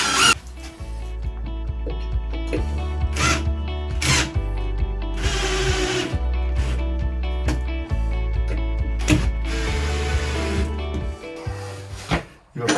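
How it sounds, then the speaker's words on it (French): A power drill driving screws while an accessible toilet is fitted, heard as several loud, close bursts of motor whine that start and stop, with scraping and knocks between them and no speech. "Il va falloir trouver une solution pour arriver à visser ces vis."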